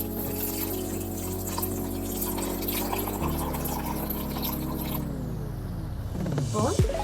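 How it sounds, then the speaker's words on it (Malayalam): Milk poured into a banana, oats and peanut butter smoothie: a steady liquid stream over a constant humming drone, shifting midway and ending with a brief rising filling note. "ഒഴിച്ചെടുത്ത ഇതിലേക്ക് കുറച്ച് മിൽക്ക് ആഡ് ചെയ്യാം"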